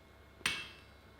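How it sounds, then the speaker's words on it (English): A set hammer strikes hot iron once while an Anglo-Saxon anvil is being forged, a single sharp close metallic clang that rings briefly and fades in a quiet workshop. "So then I went in with a set hammer and just pulled that"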